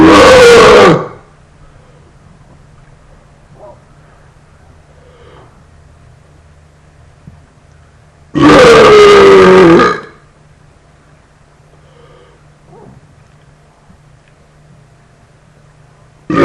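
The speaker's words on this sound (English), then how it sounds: "I will do a new burp video" Two long, loud, deep burps, each lasting about two seconds, separated by several seconds of quiet room hum.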